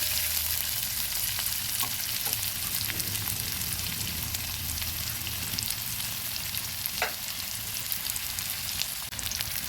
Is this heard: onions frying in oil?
yes